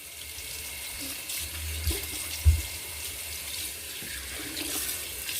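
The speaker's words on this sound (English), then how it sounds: "rinse this density of a lather down my sink" Tap water runs steadily into a bathroom sink, rinsing thick lather down the drain, with a couple of brief knocks and splashes partway through.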